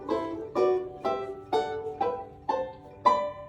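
Seven guitar chords strummed one after another from a D shape, each a clear plucked attack about half a second apart and left ringing, fairly quiet and heard alone.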